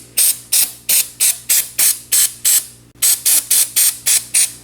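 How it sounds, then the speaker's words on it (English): Rapid bursts of spraying cleaner from a trigger bottle onto a radiator, about a dozen short hissing squirts in a quick, regular rhythm, close and loud. "So we're gonna go ahead and take this and just spray it off."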